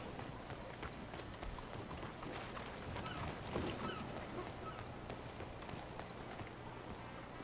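Hooves clop in a quick, steady rhythm, a horse galloping at a moderate distance over a faint background hum in the video game Red Dead Redemption II.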